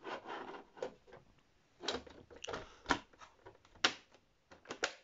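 A plastic PS4 console cover is pressed back into place, giving a series of sharp separate clicks and clacks at irregular intervals, close up and fairly quiet.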